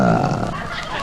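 A voice mimics a lion's roar in an old radio comedy sketch about jungle night sounds, a short, loud, growling vocal burst that trails off.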